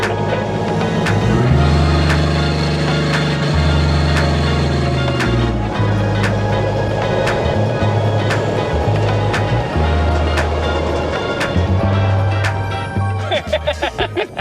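Inside a BYD Shark ute towing a 2.5-tonne caravan, a steady low drone builds as the vehicle accelerates onto a freeway, with road rumble and tones shifting with speed, and some rattling near the end.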